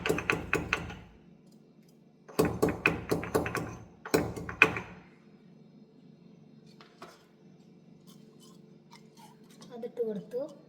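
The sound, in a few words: pounding cardamom into powder on a stone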